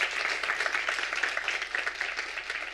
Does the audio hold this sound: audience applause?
yes